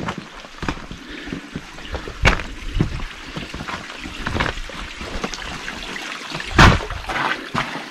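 Water trickles and splashes steadily into a small mountain cave among snowy peaks, with a continuous close wash broken by a few louder surges and gurgles, and no voices.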